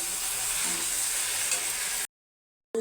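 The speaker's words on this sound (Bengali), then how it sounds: "ভেন্ডিটা একটু ভেজে নেব।" Okra (bhindi) frying in a pan for a Bengali coconut curry, a steady close sizzle with light stirring that cuts off abruptly near the end.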